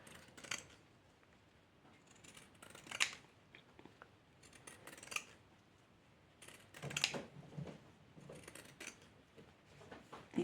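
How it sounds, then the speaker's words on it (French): Pinking scissors cut through fabric in a series of crisp, rasping snips, close and clear, arriving in irregular bursts with short pauses between cuts. "le fait de couper avec nos ciseaux crantés"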